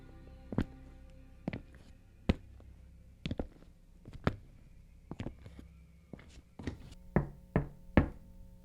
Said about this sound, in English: When he knocked on my door, I almost vomited.